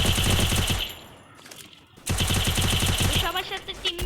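Sniper rifle gunfire rings out in a video game as loud, close shots that come in rapid rhythmic runs, break off in a brief lull, then resume.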